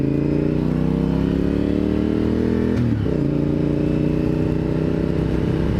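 A Honda motorcycle engine drones loudly while riding, a steady close rumble with a brief dip and shift in pitch midway before settling back to cruising, wind noise underneath.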